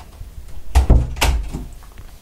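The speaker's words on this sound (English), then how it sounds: "I'll just close my door." A room door is pushed shut at close range, giving a heavy thump followed by a second solid knock of the latch and some low rumbling handling noise.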